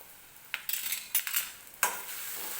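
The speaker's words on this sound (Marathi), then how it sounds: "सुरुवातीला हे मसाले मिक्स करून घेते" A spoon stirs turmeric, coriander powder and cumin powder in a pan for a cauliflower and pea bhaji, giving a few short metallic scrapes and clinks close by, spaced irregularly with quiet gaps between.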